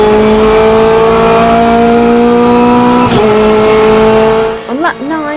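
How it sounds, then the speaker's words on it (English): Renault Clio Cup race cars at Donington scream past at high revs, a loud sustained engine whine with pitch shifting as gears change, ending in a sudden drop and rising revs, under a commentator talking. "At the restart on lap 5, Smith made a perfect getaway to lead Robinson by a full second across the line"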